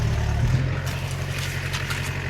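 A tractor engine idles steadily at a banana plantation while a load of manure is emptied from it, a low continuous rumble nearby with faint clatter over it.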